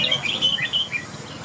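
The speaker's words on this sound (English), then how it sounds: "here are the bird owners trying to get their birds to sing the most times" Caged birds at a bird singing contest let out quick, bright chirps and warbling trills over a low murmur of crowd noise.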